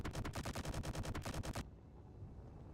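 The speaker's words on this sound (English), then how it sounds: "hit the ship with a massive straight gun strafe from the F-302 when it flies by" Rapid, evenly spaced bursts from an F-302 fighter's guns strafing a ship in a space combat video game, a loud machine-gun string lasting over a second before cutting off abruptly to a quiet background.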